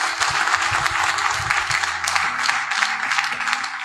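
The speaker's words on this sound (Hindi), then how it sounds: "एक जोरदार ताली हमारे सारे किसानों के लिए होनी चाहिए" Audience at an agriculture awareness program applauds farmers, a steady wash of many hands clapping with music playing underneath.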